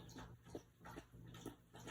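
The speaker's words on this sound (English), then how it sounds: "That's her slopping up water from her water fountain." A dog lapping water from a pet water fountain, several soft wet slurps a fraction of a second apart, quiet and close over a faint steady hum.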